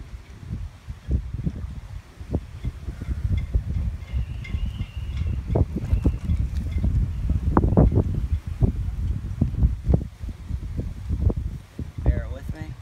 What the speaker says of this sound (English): We're in a little bit of a windy condition today.